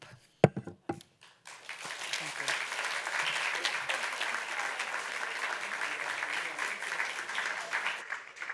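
Audience applause at a public health conference session, a dense, sustained wash of clapping that rises after a few sharp taps and continues steadily to the end.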